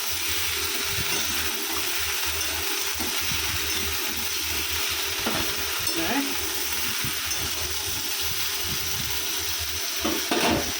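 Ash gourd, cauliflower and paneer fry in a pan as turmeric and cumin powder go in, with a steady crackling sizzle and occasional stirring scrapes and clinks, close by and alone.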